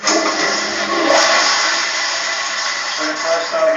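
A toilet flush heard from inside a sewer drain line, a loud, steady rush of water echoing through the pipe and swelling slightly near the end.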